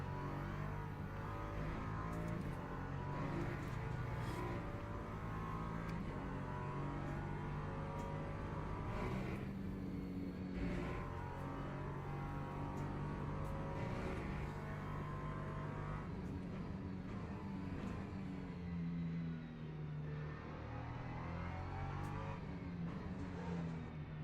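Race car engine in the video game Le Mans Ultimate, an LMP3 prototype droning and revving continuously with shifting pitch as other cars close in and pass, a steady mid-level roar with no talking.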